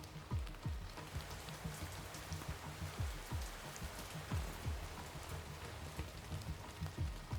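Rain falling steadily on surfaces, a dense soft patter with scattered heavier drops landing in an uneven rhythm, moderately close and continuous throughout.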